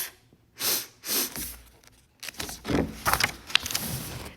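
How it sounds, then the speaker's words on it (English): A cartoon character sneezes twice in quick succession, loud and close, followed by a burst of scuffling, rustling effects. "Pigs make me sneeze"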